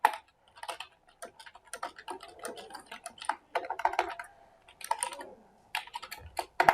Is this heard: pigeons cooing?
no